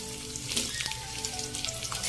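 Sausages fry in a pan with a close, continuous sizzle, scattered crackles and pops rising over the hiss, and no voices.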